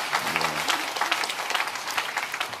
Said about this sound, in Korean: 우리 격려와 축복의 박수 해주시면 좋겠습니다